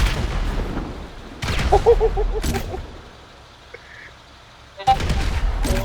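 Several sharp, booming gunshots in bursts in GTA V, a car exploding in a brief loud blast after a quiet lull; the bangs are close, with faint voices between.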